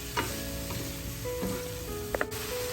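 Potatoes fry in a pan for a mushroom curry, giving a steady, close sizzle with a few soft stirring scrapes and clicks, and no talking.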